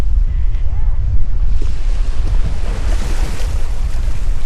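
Waves and wind at Smathers Beach in Key West make a constant broadband wash with heavy low buffeting from wind on the microphone. The sound is loud and steady throughout.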